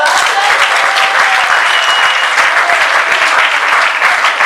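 Church congregation applauding and cheering at an official wedding ceremony, a steady dense wash of clapping that fills the whole stretch at close range, with no voices standing out above it.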